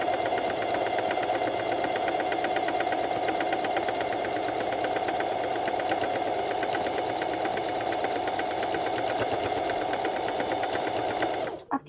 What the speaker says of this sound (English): I'm going to get on the sewing machine now